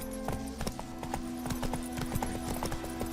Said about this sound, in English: That's it, Roach.